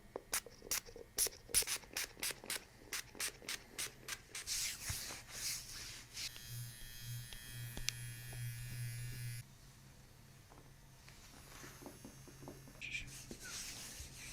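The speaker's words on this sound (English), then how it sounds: "Magnesium spray on your spine, okay?" Magnesium spray is applied to a person's spine during a chiropractic session, coming as a quick run of short, close pump spritzes, then a longer hiss and soft rubbing, quiet with no talk.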